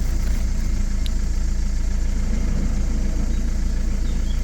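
A Renault Megane 3 dCi diesel engine idles steadily on a hot day, a continuous low, even rumble with a fine mechanical pulse and no voices.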